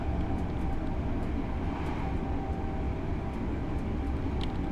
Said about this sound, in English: We'll get this train down to Grantham